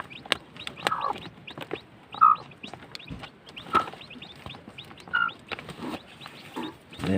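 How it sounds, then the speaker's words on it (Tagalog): Newly hatched chicks peep in short, high, repeated cheeps while a hen clucks softly nearby, a busy, close barnyard chatter with scattered taps and rustles. "Asan na yung sisiw?"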